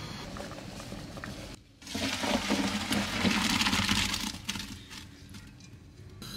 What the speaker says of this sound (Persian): برنجمون آماده شد، میخوام آبکش کنم.